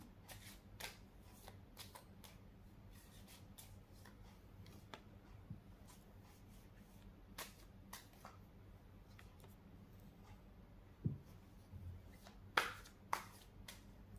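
Tarot cards shuffled by hand: soft, quiet riffling and flicks come in scattered bursts, with a few sharper snaps near the end, against a low hum and no speech.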